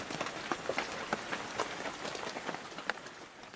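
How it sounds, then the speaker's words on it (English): Rain falls steadily outdoors, a quiet broadband hiss scattered with soft irregular drop ticks and patters. "The rain mirrors Shamima's recent tears for her family"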